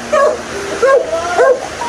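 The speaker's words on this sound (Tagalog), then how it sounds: "Nirapat ako ng aso." A dog gives three short, high whimpering yelps, close by, over a steady background murmur.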